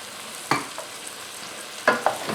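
A pot of green tomato soup with coconut milk and ground coriander is stirred, a soft bubbling simmer broken by a few distinct scraping knocks of the spoon against the pot bottom, close and without talk.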